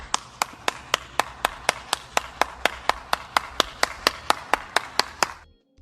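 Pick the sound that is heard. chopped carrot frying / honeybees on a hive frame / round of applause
round of applause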